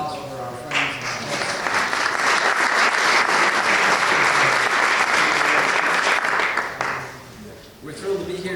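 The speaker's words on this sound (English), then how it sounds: "round of applause to all you." Loud, sustained applause from an audience at a holiday community event, swelling quickly and holding steady for several seconds before tapering off, with talk resuming at the end.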